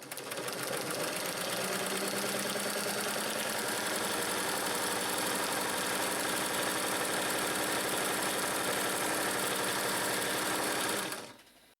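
A vintage Singer 317K zigzag sewing machine runs steadily, its loud, even mechanical whir holding for about eleven seconds before stopping abruptly.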